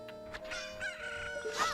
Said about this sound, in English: I think there's a chicken over here